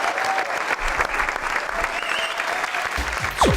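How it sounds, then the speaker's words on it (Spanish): A studio audience breaks into sustained applause for a guest on an Argentine TV program, dense clapping filling the room steadily for several seconds with a slight surge near the end. "Un gran aplauso para Javier Primo."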